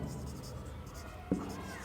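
A pen or chalk scratches softly across a writing surface as a math problem statement is written out during a classroom lesson. The quiet, continuous scratching is faint against room noise, with a single small knock near the end.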